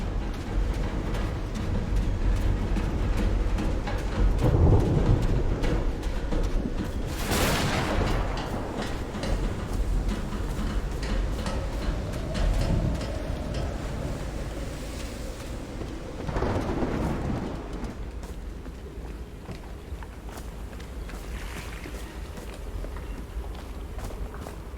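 Thunderstorm with rain in the video game Call of the Sea: steady rain hiss throughout, punctuated by a couple of loud thunder cracks and rumbles, with footstep-like thuds underneath.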